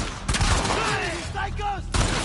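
Gunfire in The Last of Us Part II, a dense burst of shots up front with broadband bangs at the start and end, a muffled chaotic fusillade with a voice talking underneath.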